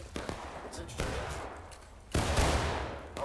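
Musket volleys in the Civil War shooter War of Rights, loud sustained gunfire bursts rolling across a battlefield at close range, with heavy crackling swells near the start, middle and end, and a voice talking over the shooting.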